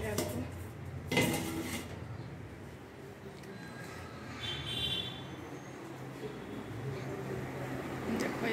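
Fried rotis are covered with a lid in a home kitchen, a sharp metallic clatter of dishes and lid near the start followed by softer clinks over a steady room background.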